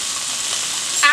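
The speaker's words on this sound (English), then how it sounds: "And I'm going to sear this on all 4 sides." Beef sears in a pan over high heat, a steady bright sizzle throughout with a brief louder crackle at the end.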